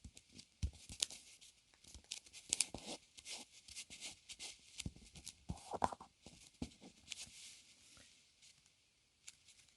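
Paper is creased and folded for an origami dog, a quiet close run of crisp crinkles, rustles and soft taps that come in uneven bursts.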